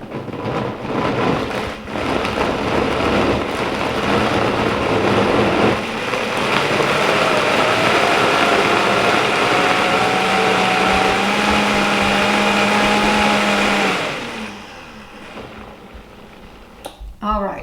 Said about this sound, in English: we will blend this